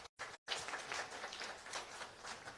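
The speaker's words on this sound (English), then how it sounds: "Give her a big round of applause." A seminar audience at an entrepreneurs' event breaks into soft, steady applause after a brief gap of silence, with the clapping continuing evenly to the end.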